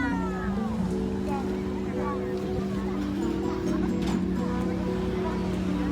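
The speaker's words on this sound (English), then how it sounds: "We're taking the boat now." A boat engine drones steadily over the water on the crossing to Nami Island, a constant mechanical hum with people chattering faintly in the background.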